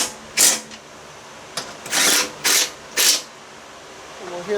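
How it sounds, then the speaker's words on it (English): An impact gun tightens deck spindle bolts on a Craftsman LT1000 42-inch mower in four short, loud, rattling bursts, the first alone and then three in quick succession, close and free of talk. "Notice I'm not using full power on the impact gun."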